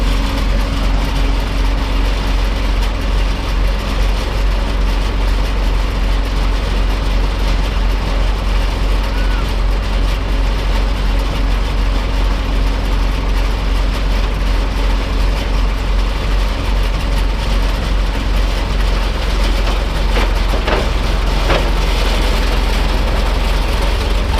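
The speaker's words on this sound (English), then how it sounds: "I'm gonna lift the trailer up and hopefully pull out from underneath of it" A 26-foot rollback truck working to lift a trailer off its deck, its heavy diesel engine droning loudly and steadily at a low rumble throughout, with faint mechanical clatter near the end.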